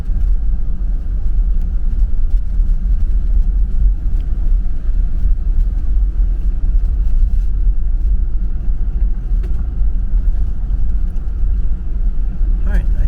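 A four-wheel drive vehicle drives on a dirt gravel road in Citrus Wildlife Management Area, with a steady loud low rumble of engine and tyres throughout and faint crackling on top.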